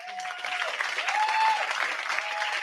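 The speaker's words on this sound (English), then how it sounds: "you can clap again" An audience at a live talk event claps in a steady, moderately loud wash as a guest leaves the stage, with a faint voice briefly rising over the applause.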